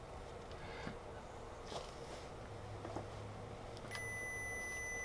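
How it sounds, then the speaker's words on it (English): A multimeter set to continuity mode sounds a steady electronic beep while testing an ebike kit connector. The tone starts near the end, holds evenly, and sits over a quiet background hiss. "And as you can see, it beeps."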